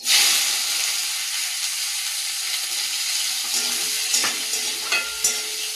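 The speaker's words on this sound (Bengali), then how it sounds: "তেলের মধ্যে দিয়ে দেবো শুকনো লঙ্কা একটা জয়িত্রী এলাচ আর দারচিনি দিয়ে দেবো কুচিয়ে রাখা পেঁয়াজ" Dried chilli, mace, cardamom, cinnamon and chopped onion frying in hot oil, giving a loud, steady sizzle and hiss throughout, with a few faint clinks of stirring near the end.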